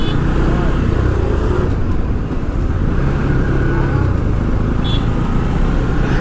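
Road traffic in light drizzle on a motorbike ride in Nepal, a continuous dense wash of engines and tyre noise with passing vehicles, steady and fairly loud, with brief voices mixed in.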